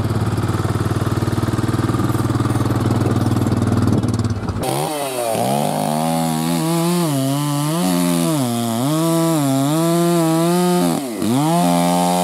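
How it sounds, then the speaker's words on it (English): A chainsaw on a farm, a loud close engine buzz that jumps into a higher revving whine, rising and falling repeatedly as it cuts, running continuously throughout. "Another thing I've learned about is chainsaws"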